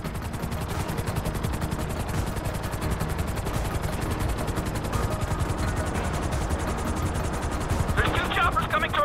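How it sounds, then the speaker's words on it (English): Helicopter rotors thump rapidly in a video game, two choppers closing in on a train amid rattling gunfire-like bursts, a continuous dense chopping roar with excited talk over it. "There's two choppers coming toward my train!"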